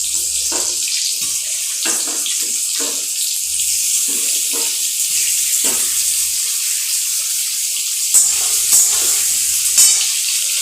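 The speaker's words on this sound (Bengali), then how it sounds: "ওই ফোড়নে আমি আলুগুলো একসঙ্গে ভেজে নেব।" Potatoes fry together in oil spiced with bay leaves for a duck egg and potato curry. A steady hiss of sizzling runs throughout, broken by a few scraping stirs, with no talking.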